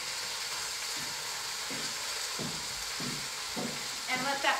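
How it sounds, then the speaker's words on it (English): Quartered onion and browning meat sizzle steadily in a hot frying pan, a continuous broadband crackle with a few soft thumps and a brief louder burst near the end; no talking. "I'm going to add my onion to the pan just like it is quartered."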